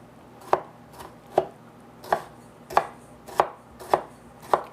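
A knife chops mango on a cutting board in seven steady, evenly spaced strokes, each a crisp close knock, with no talking.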